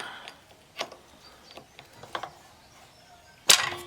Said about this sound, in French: Et on dévisse